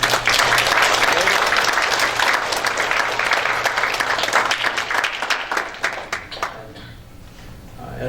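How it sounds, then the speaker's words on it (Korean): A church congregation applauding during a Sunday worship service, with dense, loud clapping that fills the room and slowly fades into scattered claps near the end. "우리 하나님 앞에 영광의 박수를 드립니다."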